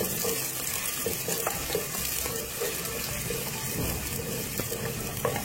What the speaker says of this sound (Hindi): सबसे पहले इसमें प्याज शामिल करेंगे, फ्राई करेंगे।